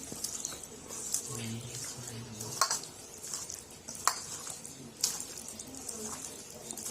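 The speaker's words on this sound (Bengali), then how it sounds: "তো এবারে সব মশলা দিয়ে আমি মেখে নেব, মানে একটা ম্যারিনেট টাইপের হয়ে যাবে।" Raw meat being hand-mixed with mustard oil and spices for biryani, giving soft wet squelching and stirring sounds with faint clinks of a pot or bowl, steady and close, with no speech.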